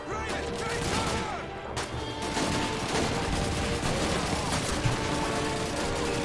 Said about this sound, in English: someone's shooting me over there